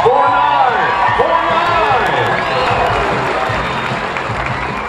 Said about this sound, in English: I told you I want some applause